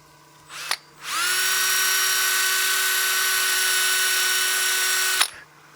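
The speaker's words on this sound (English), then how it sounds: "now we're going to go ahead and power sand this" A power sander whines steadily against a wooden coin box spinning on a lathe, starting up after a short click, holding an even high-pitched tone for about four seconds, then cutting off.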